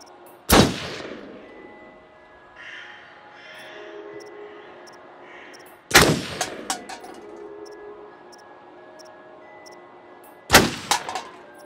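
Three loud, booming gunshots, several seconds apart, at a shooting range at the base of a ski lodge in the video game Until Dawn, each with a ringing tail over a quiet ambient hum.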